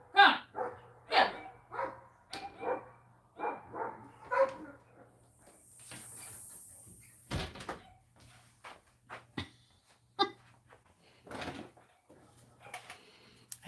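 A dog barks repeatedly in short bursts, fairly close, with gaps between barks and people talking in between.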